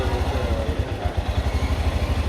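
A Royal Enfield Himalayan motorcycle engine idles steadily during a hydroxy-gas decarbonization treatment, a loud, even low thumping pulse with no pauses.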